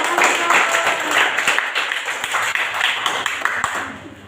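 A classroom claps for a student group after their presentation, a dense crackle of many hands at steady loudness with faint voices mixed in.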